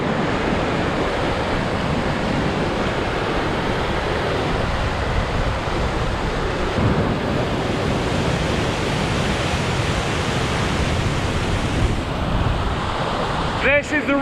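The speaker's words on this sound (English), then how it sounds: "This is the river crossing I was a bit worried about." Fast-flowing river at a mountain crossing point, rushing close by as a steady, loud broadband roar of churning water that continues unbroken for the whole stretch, with no voices over it.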